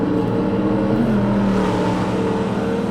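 A 1995 Ford SVT Cobra R V8 roars in a racing simulator at the Nürburgring Nordschleife, loud and sustained with the engine pitch shifting as it climbs and drops through the revs.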